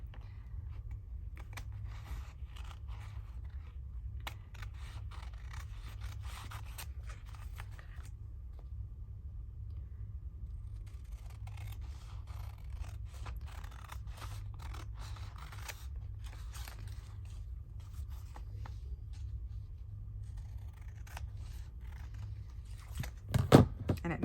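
Paper being trimmed with scissors for a medieval botanical illumination project: repeated crisp snipping cuts in bursts, fairly close, with short pauses and a soft thump near the end.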